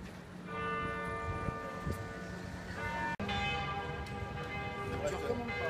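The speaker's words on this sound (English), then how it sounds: "Three hours later, the bells still ring." Church bells in Paris peal continuously with sustained, overlapping tones, loud and close, ringing steadily with a brief break partway through.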